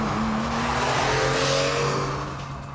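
A Porsche 996's 3.4-liter, 300-horsepower flat-six engine revs hard and loud, its pitch climbing and holding in a sustained roar that tapers off slightly at the end.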